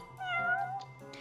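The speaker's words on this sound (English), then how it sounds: "Of course there is a cat in this freaking drug development place." A cat meows once in the video game Judgment, a single drawn-out, clear meow heard close and alone.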